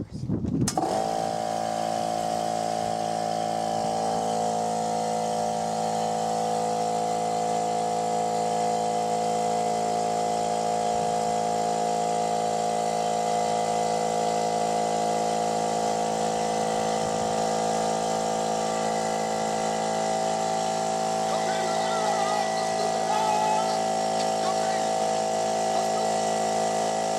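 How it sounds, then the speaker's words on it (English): An air compressor supplying air to a blue-sand fluidized bed starts with a sharp onset and then runs continuously in a steady, tonal electric-motor drone with a strong hum, loud and close throughout. "the air compressor, and the material we're using is blue sand."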